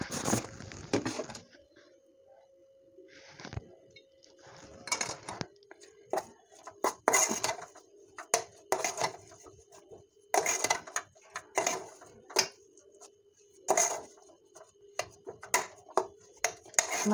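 Spoon working spices into mashed potato in a bowl for aloo kachori filling, with a run of soft scraping and thudding strokes that grow denser and more rhythmic after the first few seconds, fairly close and moderate in level.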